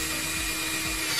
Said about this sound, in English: all we really need to do is go into our marks and drill two holes